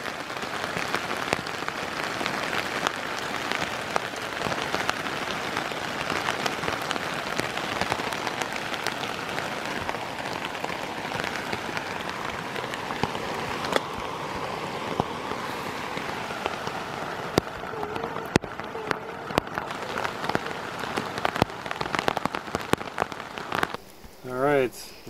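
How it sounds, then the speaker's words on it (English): A rain shower patters steadily at a lake campsite in the Boundary Waters wilderness, a dense close hiss of drops striking surfaces throughout, with scattered sharper taps and brief faint voices near the end. "Another good rain shower."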